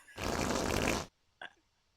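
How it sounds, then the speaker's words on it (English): A single loud, raspy fart blasts for about a second and stops abruptly, followed after a short pause by a brief faint blip. "beer fart, beer fart"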